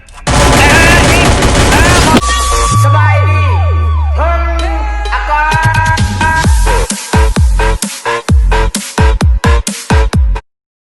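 Rapid gunfire from a shooting video game crackles loud and close, with bursts of fire, whooshing sweeps and a run of sharp single shots toward the end that stop abruptly.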